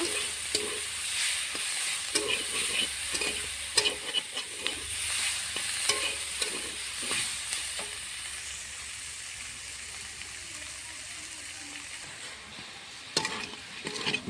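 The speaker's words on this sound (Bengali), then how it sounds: "ভালো করে এখন এটা ভেজে নেব।" Taki fish sizzles steadily in hot oil with turmeric and salt, a continuous close frying hiss broken by intermittent scraping stirs and clinks of a spatula in the pan.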